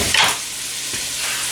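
Diced celery hits a hot skillet and sizzles with a bright burst of frying hiss at the start, settling into a steady, close crackle.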